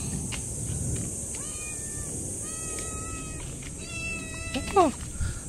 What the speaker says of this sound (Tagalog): Yung ano, yung pusa naman.